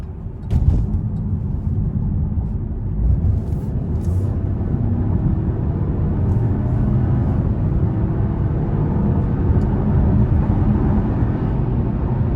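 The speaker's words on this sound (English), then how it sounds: "definitely like the feel of the turbo. And it does accelerate pretty well, even though I'm not really giving it that much throttle." A 2020 Buick Encore GX Select AWD small SUV with a 1.3L turbo engine accelerates on light throttle, a steady, fairly loud low cabin rumble of engine and road noise with no break throughout.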